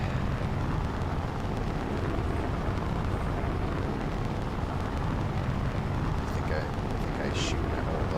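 A BattleTech mech in the video game fires all its weapons and missiles at once, producing a dense, continuous roar of explosions and rumbling blasts that stays loud throughout.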